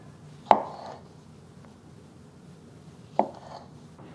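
A knife chops through Roma tomatoes on a cutting board, two sharp clean thuds a few seconds apart and a third starting at the end, close and clear with no talk.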